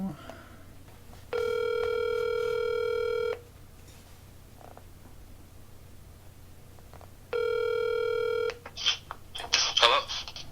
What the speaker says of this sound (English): so I'm going to give Spencer a call right now.